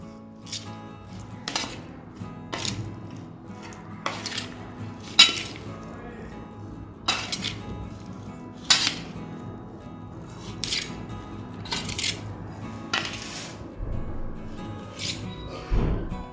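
A spoon works through potato chutney just topped with a hot tempering, giving soft squelching stirs and a series of sharp clinks against the pot at a loose, uneven rhythm.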